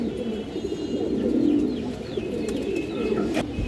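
Fancy pigeons coo steadily in low, throaty rolling calls, close by, with a few faint chirps and light rustling in the background.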